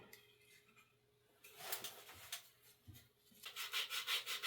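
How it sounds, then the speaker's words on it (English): Rough scratchy rubbing of sandpaper on wood by hand, starting quiet and growing into louder rhythmic back-and-forth strokes near the end. "after I finish sanding this down"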